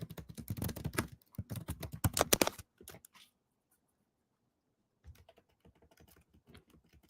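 Fast, dense typing on a computer keyboard, loud close key clatter for about three seconds, then a pause of near silence before lighter, sparser keystrokes resume.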